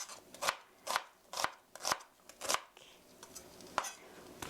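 A knife slicing vegetables into 0.3 cm slices on a cutting board for a stir-fried pork dish, about seven crisp, evenly spaced cuts in a steady rhythm, close and fairly quiet with no talking.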